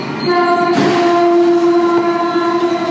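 A loud train horn blares steadily and close, layered over the rumble of a passing train.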